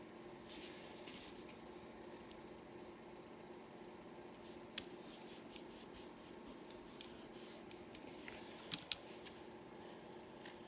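Scissors snip through fabric in short, quiet, irregular cuts, each one a faint crisp crunch against a soft background hush.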